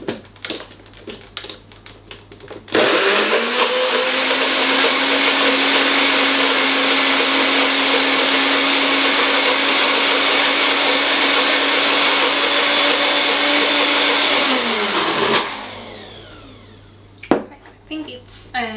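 A blender whirs loudly through a thick vegan sauce for sweet potatoes, starting abruptly, running at a steady roar for about twelve seconds, then cutting off, with clatter and handling noises before and after.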